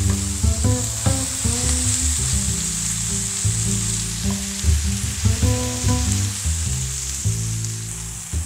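A tempering spice mix hits a hot pan for stir-fried okra, giving a continuous bright sizzle with stirring knocks and scrapes beneath, loud and near, with no talk.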